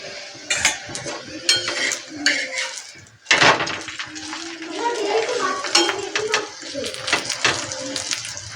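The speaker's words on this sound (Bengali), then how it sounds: "এবার তেল দিয়ে ভালো করে সেঁকে নেব এটাকে," A cauliflower paratha is frying in oil on a pan. Clattering utensils and scraping spatula strokes recur over a soft sizzle, with a person talking at times.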